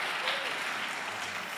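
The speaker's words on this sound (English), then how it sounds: "You're applauding for me, but I'm here to welcome you." Applause fills a university graduate engineering info session, a steady wash of many hands clapping, even and moderately distant, with no talk over it.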